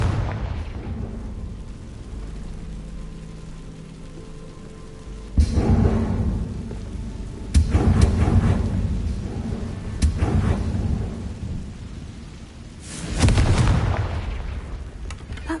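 Confringo spell explosions in a Harry Potter video game burst as several deep, loud booms spaced a few seconds apart, each ringing out over a low rumbling ambience.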